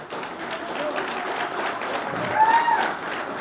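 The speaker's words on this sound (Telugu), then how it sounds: "మీ అందరిలో ఎక్కడో ఒకడు మీరు ఏంటొచ్చాము నా కోసం ఏదో ఒక మూల నుంచి చప్పట్లు కొడుతున్నాడు" An audience at a film pre-release event applauds steadily, a dense continuous wash of clapping and crowd noise that holds at an even level and swells slightly near the end.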